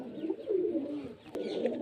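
Pigeons from a racing-pigeon pair coo nearby, giving soft, throaty, rolling calls that go on steadily through a brief stretch with no voices.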